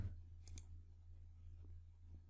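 Two quick mouse clicks close together near the start, crisp against a steady low hum, with no talking.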